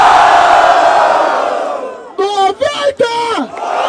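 A crowd at a trap-edition rap battle roars with a long, loud cheer that fades, then breaks into rhythmic chanted shouts in several bursts, close and energetic.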